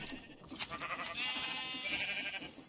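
Sheep in the video game Minecraft, on a Create mod shearing contraption, give several short bleats and then one long wavering bleat, close and clear over light mechanical clicks.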